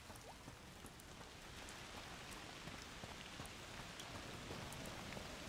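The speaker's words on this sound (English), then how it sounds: "Oh, foul rain." Rain falls steadily in A Plague Tale: Requiem, a continuous faint hiss of drops with scattered small patters, no voices.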